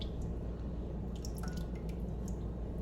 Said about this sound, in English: We need 1 cup of vegetable oil. So we're going to pour that in.